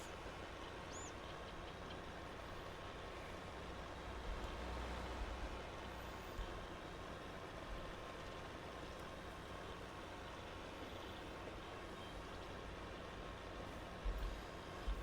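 A tractor, a 3020, drives along a road in Farming Simulator 22, its steady low engine drone running unbroken throughout with a slight swell in the middle and a few small knocks, and no voices.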